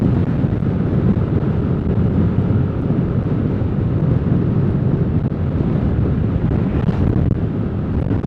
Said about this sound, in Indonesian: Angin ini